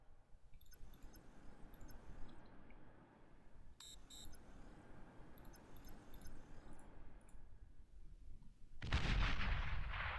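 A bomb dropped from a transporter detonates in the strategy game Beyond All Reason, a loud broad blast erupting near the end after quiet rumbling battle ambience and scattered electronic beeps.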